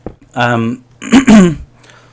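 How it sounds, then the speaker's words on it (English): Someone clears their throat in two harsh, voiced bursts, close and loud, the second longer and rougher than the first. "let me clear my throat"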